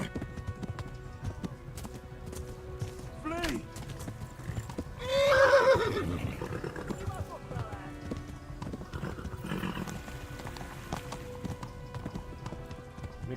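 A horse gallops with steady clip-clop hoofbeats in the Kingdom Come Deliverance video game, then lets out a loud whinnying neigh midway, while someone talks over the action.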